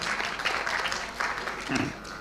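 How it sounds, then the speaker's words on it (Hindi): Crowd clapping steadily throughout at a Lucknow mushaira poetry gathering, fairly loud and close, with a voice calling out briefly over the applause. "एक बार तालियां बजा के जो है बताइए"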